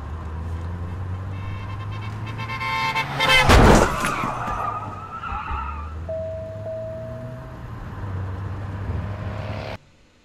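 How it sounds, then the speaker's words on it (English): Driving video game scene with car engine drone and tire noise, a loud burst of crashing or skidding, then a steady electronic warning tone like a headlights-left-on alert chiming over the engine hum. "we used an alert sound like the one you hear when you leave your lights on"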